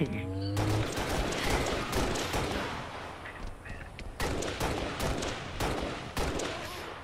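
Rapid bursts of video game gunfire crackle through a busy multiplayer firefight, with dense, overlapping shots and a few sharper onsets across the stretch.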